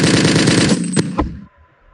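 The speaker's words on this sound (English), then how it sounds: "the only thing that is working is the shooting sound" Rapid automatic gunfire from a newly added weapon in Counter-Strike, a loud burst of fast shots lasting over a second, followed by a couple of separate louder cracks and then quiet.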